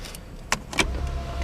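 Power windows on a parked car roll up with a short motor whir, preceded by a couple of sharp clicks, close and brief inside the cabin with no talking.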